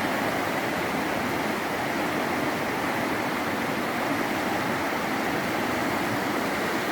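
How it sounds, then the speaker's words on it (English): Steady, loud rush of the Cispus River flowing past a campsite, a constant broadband roar of churning water with no pauses, close and unbroken for the whole stretch. "And the rage of the river, constant."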